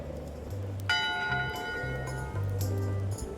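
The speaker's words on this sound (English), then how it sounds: "1 bell, voting hour." A ship's bell in Return to Monkey Island rings once with a bright, sustained metallic tone, ringing out over low game music.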